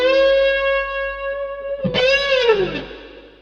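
Distorted electric guitar playing a short phrase from a riff: a sustained bent note, then a quick strum and a note sliding down the neck, with effects and reverb, alone and close.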